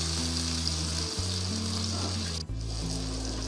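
Chopped mixed vegetables and onions land in a hot pan and fry with a steady, loud sizzle, briefly dipping and then surging again as more goes in.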